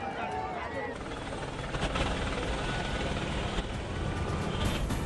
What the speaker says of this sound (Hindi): हरिद्वार पहुंचे कांवड़ियों पर हेलीकॉप्टर से पुष्प वर्षा।